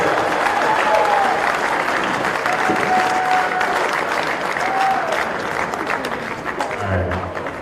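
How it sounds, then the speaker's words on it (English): Audience applause at a motorcycle rally awards ceremony, a dense steady round of clapping with a few whistles on top that tapers slightly at the close. "Again, another round of applause."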